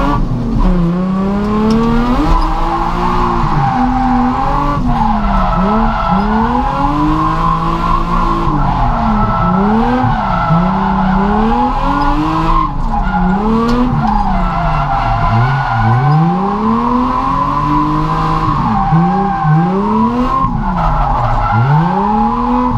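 Drift car skidding around a track on practice laps at a Driftcup 2018 final round, with a loud continuous engine wail sweeping up and down and tires squealing throughout, close and steady with no talking.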